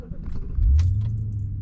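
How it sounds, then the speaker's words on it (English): Audi B7 RS4 engine gives a low, steady rumble that swells louder partway through and then holds a deep drone, heard up close from inside the car. "my favorite thing about this Audi is that noise"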